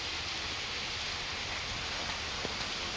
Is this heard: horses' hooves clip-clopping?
no